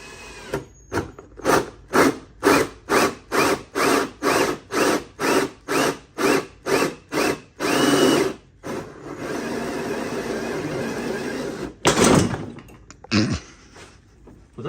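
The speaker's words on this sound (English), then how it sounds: "I'm gonna drill through it" A drill bores through painted metal near a Nissan 350Z gas cap: a rapid run of about fifteen rhythmic mechanical bursts, then a sustained grinding stretch, a brief loud burst and quieter rattles.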